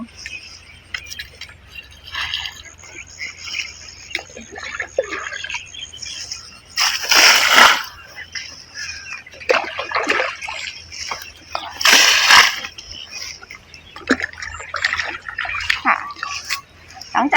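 Water splashes in two loud bursts onto dry soil at the base of a durian tree during the cool season, with softer intermittent drips and sloshing in between.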